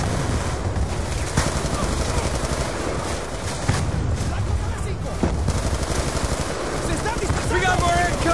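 Call of Duty: Black Ops 2 campaign combat, with sustained loud machine gun fire rattling continuously in a dense battlefield din, joined by shouted voices.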